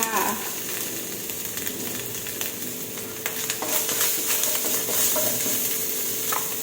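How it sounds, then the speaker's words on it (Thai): Red curry paste stir-frying in a hot pan for a Thai pork and long bean dish, a steady close sizzle with scraping and stirring clatter running throughout, no voices. "ผัดพริกแกงเผ็ดให้หอมค่ะ"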